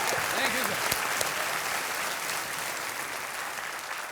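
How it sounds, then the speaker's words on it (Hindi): A studio audience on a game show set claps loudly and continuously, a full, even burst of applause that holds steady for several seconds with faint voices beneath. "एक बार फिर जोरदार ताली हो जाए बीसीएल टीम।"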